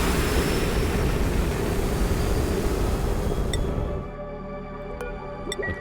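Rocket launch in the colony-building game Oxygen Not Included: a loud, steady broadband roar that holds for about four seconds, then drops to a lower rumble with a few faint electronic chimes and tones over it.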